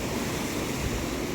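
Sea waves wash over a rocky shore near Kanyakumari, giving a continuous close roar of surf with some wind rushing across the microphone.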